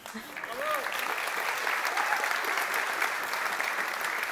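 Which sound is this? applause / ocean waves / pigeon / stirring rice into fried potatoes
applause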